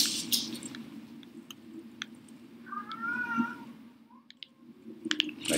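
A cat meows once, a short rising-falling call in the middle, over a steady low hum of game or room background with occasional clicks.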